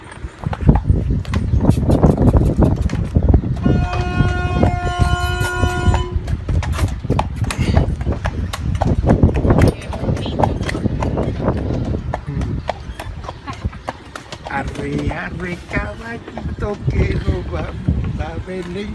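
Horse hooves clip-clop steadily while pulling a buggy along a road in Amish Country, accompanied by the roll of the carriage, with people talking throughout.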